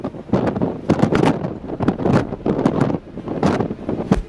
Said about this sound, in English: This storm brought with it extremely high wind speeds, with gusts of up to 80 miles per hour